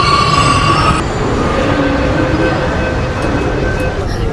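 Metro train moving along the track, a loud steady rumble of wheels with a high electric whine fading after the first second and light rattling.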